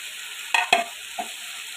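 Climbing perch (koi fish) slid into hot, sizzling spiced oil for a Bengali tel koi curry. A steady frying hiss runs throughout, broken by two sharp splashes and a softer one as the fish goes in.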